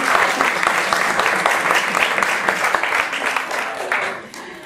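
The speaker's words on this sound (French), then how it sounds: "C'est elle qu'il faut applaudir." A seminar audience applauds a woman named Edwige with dense, sustained clapping that fills the room, steady and loud before tapering off near the end.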